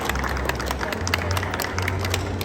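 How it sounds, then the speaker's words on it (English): A festival talk audience giving a round of applause for volunteers, dense steady clapping filling the whole moment at moderate distance. "Can we have a round of applause for our volunteers?"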